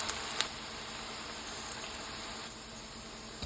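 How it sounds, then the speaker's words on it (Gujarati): Muthiya dumplings for Gujarati undhiyu frying in hot oil, a steady close bubbling sizzle with a few faint pops near the start, continuous and even with no talking. "તેલ ગરમ થાય એટલે મૂઠિયાને તળી લેવાના છે."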